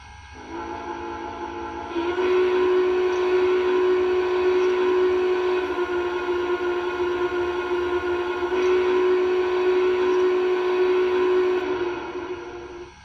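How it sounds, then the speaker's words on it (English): A model train's quilling steam whistle on an MTH Union Pacific Big Boy locomotive blows one long, steady, wailing note that holds for about ten seconds over a low rumble, then cuts off. "You got to do it with the quilling whistle."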